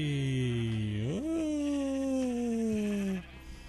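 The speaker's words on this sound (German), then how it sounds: "Schafe." Minecraft sheep give a long, wavering bleat that rises in pitch and then slowly sags over about two seconds, clear and close, then drops off abruptly.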